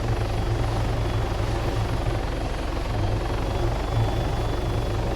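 Helicopter engine and rotor drone in Arma 3 while lifting a sling load, a steady loud low throb with a constant whine above, unbroken throughout.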